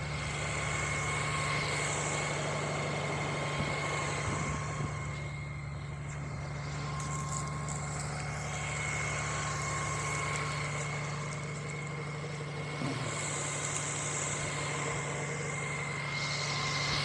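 A motorcycle engine idles while warming up during a pre-trip inspection, giving a continuous, even mechanical hum with a steady droning tone and faint background noise, without talk.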